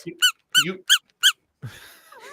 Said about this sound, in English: But he still squeaks if you move his face.